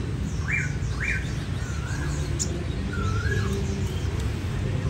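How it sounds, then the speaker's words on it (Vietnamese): A caged songbird chirps repeatedly, giving several short rising whistled notes in an irregular series over constant low rumbling background noise. "buổi trưa trưa nó hót rất là nhiều luôn mấy anh"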